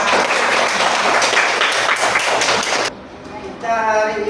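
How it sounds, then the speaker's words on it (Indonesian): Children clap their hands together in a classroom, a loud, dense burst of applause lasting nearly three seconds before cutting off abruptly, followed by a quieter moment with brief voices and scattered noise. "Tepuk tangan anak-anak."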